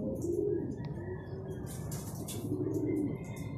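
Racing pigeons arrive at the loft after a training flight, with soft cooing and scattered chirps over a steady outdoor background and a few brief higher calls.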